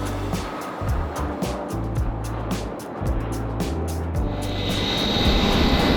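Steady low engine rumble of an airplane, loud and continuous, with a rising high whine toward the end.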